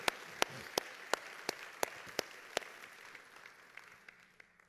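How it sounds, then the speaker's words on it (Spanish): A church congregation during a sermon on Christian life at work claps in a sparse, rhythmic pattern, with sharp individual claps at a steady beat over faint crowd noise, growing softer toward the end. "Dale un fuerte aplauso a Él porque se lo merece."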